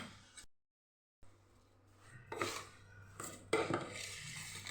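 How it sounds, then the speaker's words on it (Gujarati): Sour mango pickle being stirred and mixed with a utensil in a pan, giving faint, close scraping and light clinks in a few short bursts after a brief silence. "હવે ખોલીને આપણે હલાવી લેશું બધું મિક્સ કરી લેશું"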